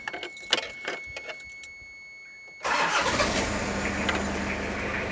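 A 1990s Toyota Cresta that had sat unused for 10 years, keys jingling in the ignition before the engine cranks and catches, then settles into a loud, steady idle close by, with no talking.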